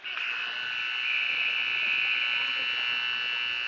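End-of-period buzzer at a junior ice hockey game sounds as one long, loud, steady electronic blare that fills the arena and holds throughout without a break.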